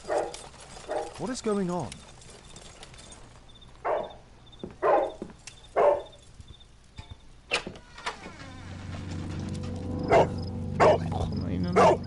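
A dog barks in repeated sharp bursts in the detective game Sherlock Holmes: The Devil's Daughter, spaced out over several seconds, with someone talking and a humming background rising later.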